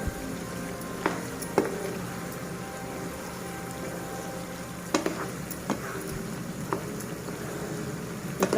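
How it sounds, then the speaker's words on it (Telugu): Ginger garlic paste sizzles steadily in hot oil for chicken pickle, a continuous frying hiss with occasional sharp clinks from a utensil against the pan. "ఇప్పుడు మనకి అల్లం వెల్లుల్లి పేస్ట్ కూడా బాగా వేగిపోతుంది."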